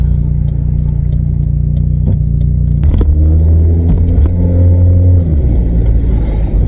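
A Volkswagen Vento engine hums steadily from inside the car, with a low rumble that shifts pitch as it pulls away and settles.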